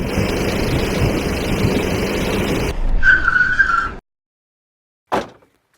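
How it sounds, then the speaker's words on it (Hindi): A car in a Hindi film scene brakes hard with a loud tire squeal, engine and road noise cutting off abruptly after about four seconds, followed by a short sharp thump in near silence. "सुनील गाड़ी रोको, कोई आदमी पड़ा है।"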